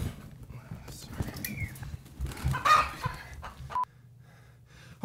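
A live chicken clucks on and off near a kitchen pot, its calls mixed with background voices and handling noise, with a louder burst of fowl sounds in the middle before things quiet down.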